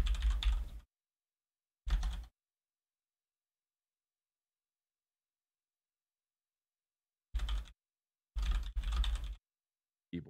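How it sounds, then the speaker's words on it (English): Fierce, intense computer keyboard typing during a Fortnite Twitch stream, arriving in short loud bursts of rapid keystrokes separated by long silent gaps, close to the microphone with no voices. "Keyboard typing is fierce."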